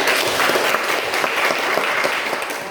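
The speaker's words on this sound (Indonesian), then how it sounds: "Oke, berikan tepuk tangan." Students clap together in a school classroom, a dense, steady burst of applause lasting a few seconds with no pauses, fairly loud and close.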